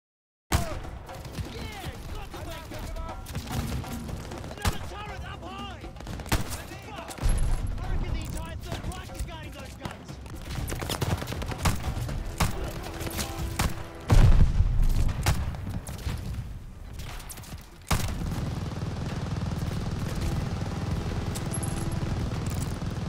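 Gunfire in the Call of Duty WWII El Alamein battle, with dense rifle and machine-gun bursts and booming explosions going on throughout, loud and continuous, and a player talking over parts of it.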